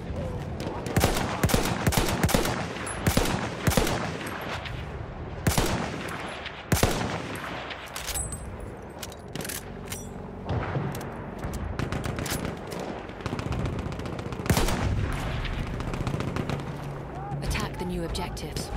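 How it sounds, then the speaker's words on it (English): Battlefield 1 multiplayer Rush match with an enemy artillery barrage, heavy booming blasts mixed with rapid gunfire bursts, loud and dense throughout, with voices speaking over the combat. "Wait for the enemy artillery barrage to stop firing."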